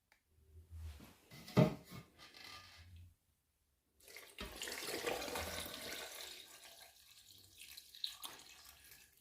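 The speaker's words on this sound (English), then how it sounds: "I'm gonna add some water to it." Water runs and splashes for a few seconds into watermelon ginger lime juice, stops briefly, then a steady pour resumes and trails off, with a dripping, liquid-filling character.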